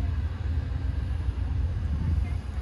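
An Amtrak 475 shuttle train to New Haven, Connecticut rolls past, a steady low rumble that holds at an even level throughout with no voices.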